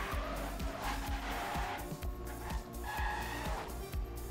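A race car in a 24-hour racing video game runs past with a loud, steady engine drone and a rhythmic low pulsing, tire noise and rising tones over the top.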